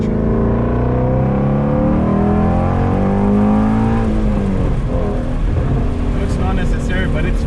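A 2019 Shelby GT350 V8 revs hard during a rev-matched downshift, a loud close engine roar that rises and falls in pitch inside the cabin, with people talking over it.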